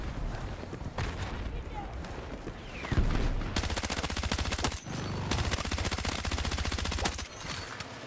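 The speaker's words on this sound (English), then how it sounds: "Shooting in the abyss, guys." Rapid automatic gunfire and bursts of shots from the video game Battlefield 6, loud and sustained across the clip with dense repeated cracks, swelling midway, with no talking over it.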